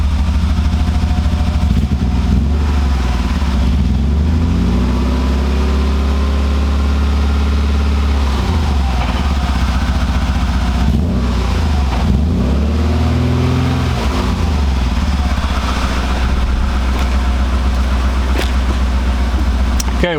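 A BMW E36 engine idles loud and close with a steady low rumble, lifting into several smooth revs that rise and fall before settling back to idle.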